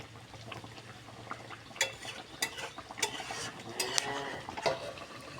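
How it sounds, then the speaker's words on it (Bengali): Chicken browning in spice masala in a pot, with a steady sizzle and bubbling under repeated sharp scrapes and clinks of a spoon against metal, close by and with no one speaking. "মশলার মধ্যেই মাংসটাকে ভালোভাবে কষিয়ে নিচ্ছি।"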